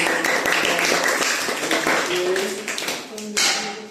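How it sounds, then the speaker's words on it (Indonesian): Students in a school classroom clap together in a brisk, fairly loud burst that thins out toward the end, with a few voices mixed in. "Tepuk tangan."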